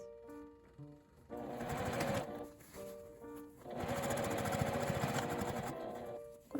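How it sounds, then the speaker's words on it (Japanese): Sewing machine running in two bursts as it stitches around the edge of a lined, gusseted tote bag made from IKEA fabric, a steady mechanical whir with a short pause between runs, close and fairly quiet. "1周端ミシンをかけます。"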